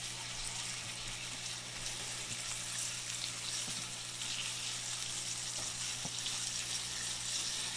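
Pork chop searing in a hot frying pan, a steady, close, dense sizzle that holds for the whole stretch with no voices.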